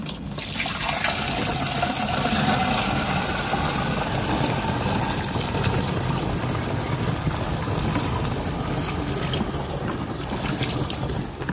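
A Dakonil pesticide mixture is poured into a knapsack sprayer on a Japanese cucumber farm. The liquid makes a steady, close splashing gush that runs for about eleven seconds without a break.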